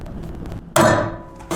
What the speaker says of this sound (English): In this case, we'll use blind rivets.